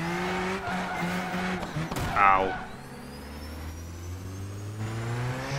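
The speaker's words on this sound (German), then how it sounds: "Es ist wirklich einer der besten Turbo-Sounds in den Callaway CV Sledgehammer, den SSR." Callaway C16 Sledgehammer-style turbo car engine in the racing game Project Gotham Racing 4, revving and whooshing with a rising whine and a burst around the middle, under someone speaking German.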